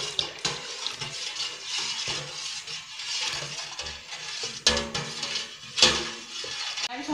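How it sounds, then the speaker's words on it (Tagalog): Dissolved yeast and brown sugar being poured into cooked bugnay fruit for wine, a steady liquid splash and trickle with a few clinks of utensils against the pot, close by. "So ilalagay na natin siya dito sa naluto bugnay."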